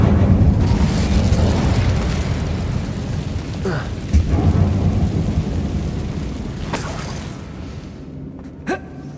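The Incendio fire spell bursts out in Hogwarts Legacy inside a closed, tomb-like mine, a loud roaring whoosh of flame with rumbling low end that swells and gradually fades, with a few sharp cracks near the end.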